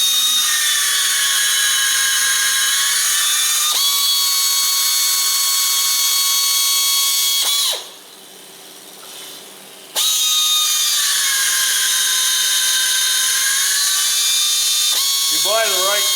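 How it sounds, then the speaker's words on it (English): A power tool whines steadily while tapping 5/16-18 threads into holes in a tractor seat mount, a high tonal drone that holds, dips briefly in pitch, cuts out for a couple of seconds, then resumes loud and close. "what I'm going to do now is I'm going to put threads in those holes"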